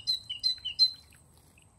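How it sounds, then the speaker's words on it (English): A Great Tit (Parus major) sings a clear, high, repeated two-note phrase, about four quick loud notes in a steady rhythm, then stops before the clip ends. "In today's episode, I will teach you how to recognize the Great Tit by its song."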